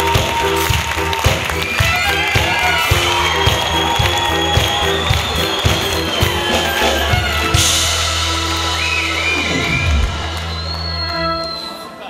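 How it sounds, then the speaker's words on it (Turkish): Studio audience at a Turkish TV show clapping and cheering to welcome Tuncay Bükenler, a steady wash of applause over background music, loud and close, fading near the end. "Alkışlar Tuncay Bükenler için."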